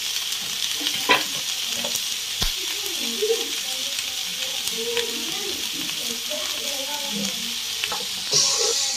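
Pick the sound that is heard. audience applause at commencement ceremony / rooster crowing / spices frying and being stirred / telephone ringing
spices frying and being stirred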